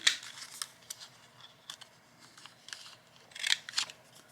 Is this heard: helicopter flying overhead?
no